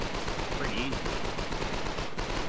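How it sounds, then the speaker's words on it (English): SMG gunfire in the video game Foxhole rattles in a dense, continuous burst, loud and close, with voices partly under it. "with the SMG, you suppress a foxhole like..."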